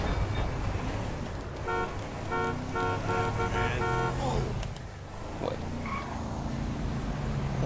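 A car horn honks in Grand Theft Auto V, a run of short repeated toots in a steady rhythm over engine rumble and game noise, with a voice speaking in the background.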